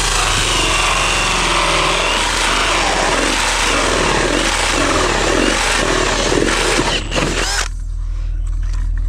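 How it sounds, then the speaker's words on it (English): A power drill runs loud and close during tile drainage work, its steady grinding roar continuing for several seconds before cutting off abruptly near the end. "Now we'll drill this."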